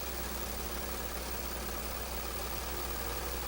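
A Baby Lock Imagine serger sews a seam through layered fabric with a continuous, even, dense mechanical whirr at steady speed, loud and close, with no pauses or talk.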